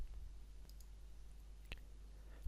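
Mouse clicks on icons in Microsoft Project, a couple of faint, sharp clicks spaced apart over a low steady background hum, with no talking.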